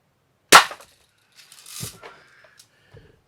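A Red Ryder BB gun fitted with an aftermarket spring fires one sharp, loud snap, followed by quieter clicks and a faint rustle as it is handled.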